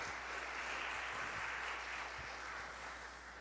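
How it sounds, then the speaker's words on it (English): Faint, distant applause from an audience at a Korean cultural festival performance: a soft, continuous patter of many hands over a low hum, slowly fading toward the end. "can we get one more big round of applause for Reverend Lee, for Consul General Kim"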